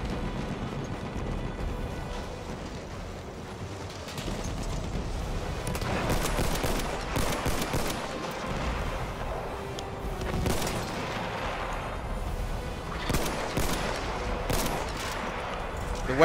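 Dense gunfire in the video game Battlefield 1, with bursts of machine-gun and rifle shots, distant explosions and sharp close shots in rapid succession, and occasional voices beneath the battle noise.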